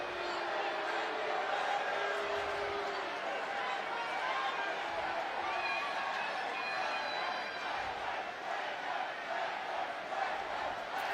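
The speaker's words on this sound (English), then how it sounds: "Crowd's gonna let the officials know what they think." Stadium crowd at a Tampa Bay Rowdies vs. Phoenix Rising FC soccer match roars and jeers steadily at the officials after a foul, a dense sustained wall of voices throughout.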